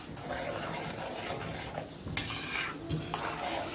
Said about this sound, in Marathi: आता आपण चांगलं असं मिक्स करून घेऊ.